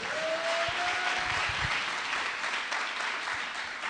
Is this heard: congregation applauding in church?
yes